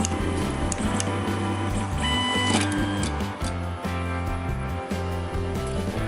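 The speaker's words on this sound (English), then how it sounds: "Enjoy the magical movement and dance of the printer." A 3D food printer moving as it prints a pyramid of Greek yogurt, with steady mechanical whirring and ticking of its stepper motors and gears, loud and continuous throughout, with no voices.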